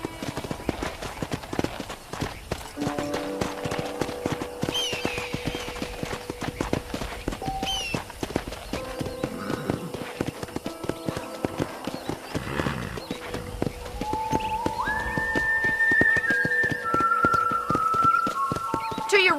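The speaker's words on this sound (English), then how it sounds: "let's see if you can still ride a horse" Steady hoof clip-clops of a horse walking around a ranch in Red Dead Redemption 2, with occasional snorts and a rising musical tone near the end.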